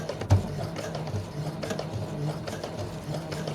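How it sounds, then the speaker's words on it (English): A sewing machine, running at lowered speed, stitches a pillow with a close, steady mechanical whir and faint rattle of moving parts. "I'm going to lower the speed on my sewing machine just because I'm a little nervous."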